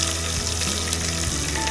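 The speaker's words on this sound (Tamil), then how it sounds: "அதே மாதிரி கடுகு பொரிஞ்சிட்டு இருக்கு." Mustard seeds splutter and pop in hot oil in a pan for Pongal kuzhambu, a dense close sizzle with rapid crackling bursts and no voices.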